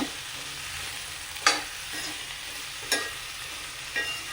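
Okra stir-fried in a pan for vendakka mezhukkupuratti, a soft continuous sizzle with a few sharp scraping clicks of the spoon as it is mixed, no talking.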